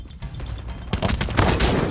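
Rapid bursts of GKS gunfire in the Call of Duty video game, loud and continuous, with dense overlapping shots building in intensity through the short stretch.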